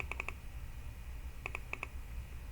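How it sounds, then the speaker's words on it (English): A computer keyboard key pressed and clicking at a desk: two tight bursts of three or four sharp clicks each, quiet and close, separated by about a second of low hum. "So I'm going to press M on my keyboard."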